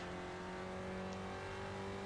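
Spec Racer Ford race cars in iRacing at Okayama give a steady, close engine drone with constant harmonics that holds for about two seconds, with no talk over it.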